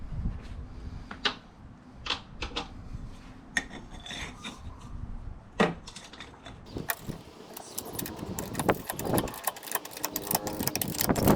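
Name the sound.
ratchet with pipe extension tightening a bolt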